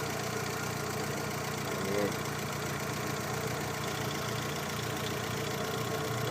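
A car engine idles steadily with a low, even hum and no talking.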